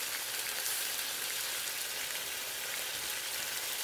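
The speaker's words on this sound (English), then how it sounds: "We're just trying to get that good sear." Food searing in a pan with a little oil gives a steady, close, hissing sizzle that runs unbroken and fairly loud, with no talking.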